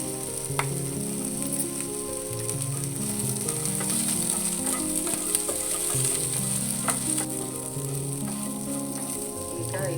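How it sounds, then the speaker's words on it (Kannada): Pepper crackling and sizzling in hot oil for methi pulao with coconut milk, a steady close frying hiss dotted with sharp pops and faint stirring scrapes, no talk. "ಮೆಣಸು ದೊಡ್ಡದು ಪಟ ಪಟ ಸಿಡಿದು ಬಿಡು"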